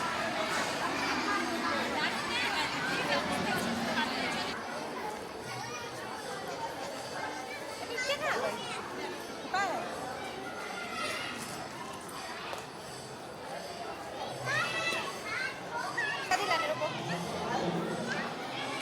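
Dense crowd chatter with children's voices at a busy Ganesh puja gathering, a steady hubbub of overlapping voices and footsteps running throughout at moderate distance.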